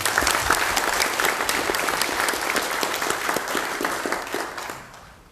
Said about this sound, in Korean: 패널들을 위해서 큰 박수 한번 부탁드립니다